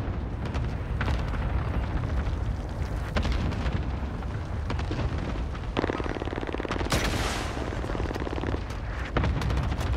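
Video game combat with an RPG rocket blast among continuous dense gunfire and rumbling explosions, loud and close throughout.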